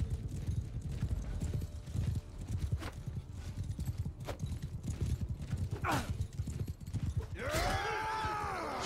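Steady horse hooves clip-clopping in the Mount and Blade 2 Bannerlord video game, galloping continuously amid battle noise, with a horse whinny near the end.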